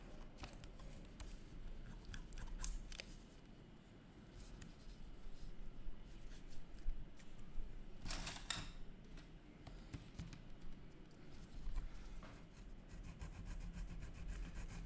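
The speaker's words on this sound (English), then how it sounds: "Let's just sand that down." Sandpaper rubs back and forth on a small model tank turret, a faint, continuous scratchy rasping with irregular strokes and a brief louder scrape midway, without talk.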